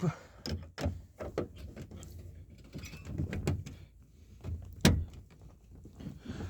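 A jammed door latch on a 1993 Chevrolet K2500 Silverado four-wheel-drive truck being worked with a wrench: a run of close metallic clunks, rattles and scrapes of varying loudness, with a louder knock near the end.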